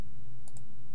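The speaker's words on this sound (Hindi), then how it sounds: "ये देखिए बन गया आपका टाइपिंग वाला साउंड इफेक्ट" A typing sound effect gives two quick, light key clicks in close succession over a low, steady hum.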